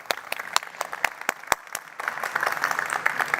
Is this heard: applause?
yes